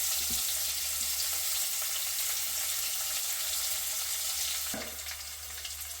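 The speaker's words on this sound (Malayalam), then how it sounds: "നമുക്ക് ഇച്ചിരി ഉലുവ ഇട്ട് കൊടുക്കാം. ഇച്ചിരി വേപ്പില ഇട്ട് കൊടുക്കാം." Fenugreek seeds and curry leaves dropped into hot coconut oil for a Kerala fish curry, giving a steady, close, even sizzle that fills the whole stretch and eases slightly near the end, with no talking.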